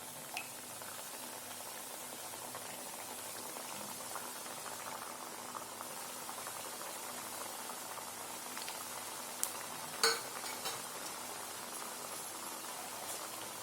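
Gaja pastry dough deep-frying in hot oil, a steady dense sizzle and bubbling that carries evenly throughout, with a couple of faint clinks near the end and no talking.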